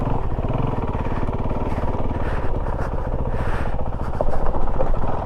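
A 2020 Honda CRF450L dual-sport motorcycle engine pulls hard under throttle, a loud, steady close-up drone with a rising surge near the end and no talking.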